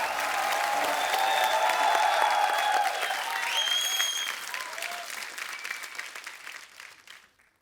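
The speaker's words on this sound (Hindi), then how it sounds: "जोरदार तालियां।" Loud studio audience applause on a Hindi comedy talk show as celebrity guests are introduced: a thick wall of clapping with cheering and whoops, gradually thinning and fading out.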